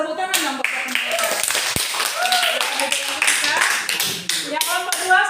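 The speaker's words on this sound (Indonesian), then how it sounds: "Oke, tepuk tangan dong buat mereka." Grade 7 students clap in a classroom during a religion lesson. The clapping comes in scattered, uneven bursts over a few seconds, close by and mixed with children's voices talking.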